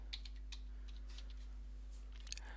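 Computer keyboard keys tapped in short irregular clicks, a handful of quiet keystrokes spread across a couple of seconds over a steady low electrical hum, with no voices.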